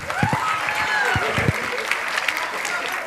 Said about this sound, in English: So round of applause for your beloved Vice Chairman.